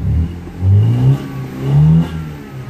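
Four-cylinder engine of a BMW E90 320i running with a rough, uneven idle, close up, its low note surging and sagging twice in slow pulses as if hunting, no talk.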